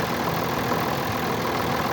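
A John Deere 6610 tractor engine runs steadily from inside the cab while pulling a 9 m spring harrow across a field, a constant dense mechanical drone and rumble with no breaks or talk.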